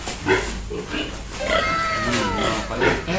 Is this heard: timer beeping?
no